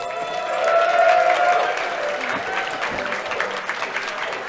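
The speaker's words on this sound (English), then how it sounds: "Everybody was getting ready for the claps" An audience at a speedrun marathon showcase of Super Mario Odyssey breaks into loud sustained applause that swells early, then carries on with cheers and whoops mixed in.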